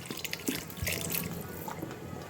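Water is poured into a clay pot while making khichdi, a soft continuous splashing and trickling with a few small drips and clinks, close and fairly quiet.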